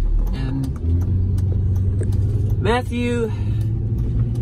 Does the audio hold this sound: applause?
no